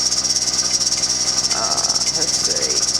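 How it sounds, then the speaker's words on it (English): A pressure canner at about 10.5 to 11 pounds, processing fresh shelled purple hull peas, hisses steadily as its weight rocks and vents steam, with a constant high sizzling hiss and faint rattling underneath. "that thing, it will keep rocking. And it will always vent out extra pressure."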